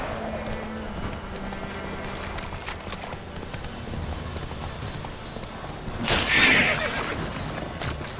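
Roach, a horse in The Witcher 3 video game, gallops with a steady clip-clop of hooves, and a loud neigh comes near the end.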